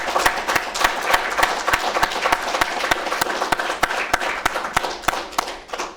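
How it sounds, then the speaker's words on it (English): An audience at an awards honors night applauds an achiever-of-the-year honoree with loud, sustained clapping, several sharp individual claps cutting through the dense crowd applause. "Quick round of applause."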